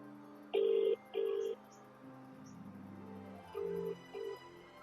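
A handful of electronic keypad tones beep in short bursts, two close together, then two more after a pause, fairly faint.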